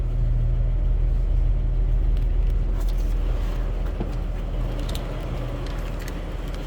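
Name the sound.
1957 Chevrolet 210 235 engine starting and running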